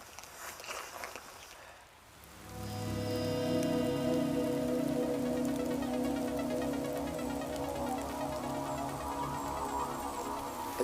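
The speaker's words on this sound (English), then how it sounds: "of non-stop rain" Steady, dense rain pours down in a northern boreal forest after about two seconds of quieter patter, then settles into a loud, continuous hiss and drumming on nearby surfaces, with no voices.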